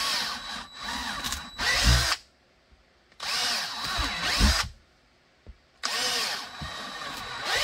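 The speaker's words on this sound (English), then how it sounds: "So let's drill those." A power drill whines in three bursts of about two seconds each, drilling holes in a clamped jig for a Walther P99 part, separated by short pauses, close up and loud.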